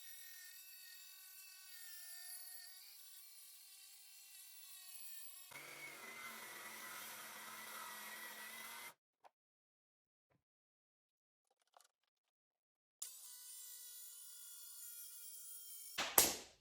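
A saw cuts through wood for an office desk in sustained, steady strokes with a changing tone, then breaks off into near silence with small knocks before the cutting starts again.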